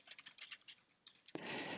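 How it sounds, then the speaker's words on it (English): Fast, light clicking of keys on a computer keyboard as data is entered, a quick irregular run of taps followed by a louder burst of clatter, close and fairly quiet. "So I happily type in my data here."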